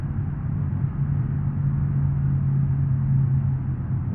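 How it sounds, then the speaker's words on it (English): Steady, loud roar of wind and low road rumble inside a car cruising at about 80 mph in BeamNG.drive, continuous and even with no voices. "The wind sounds louder, but I think it's better."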